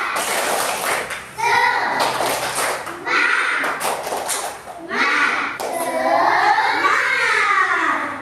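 Children in an Indonesian classroom chant in unison with a teacher leading, punctuated by bursts of clapping in a rhythmic pattern, voices loud and close.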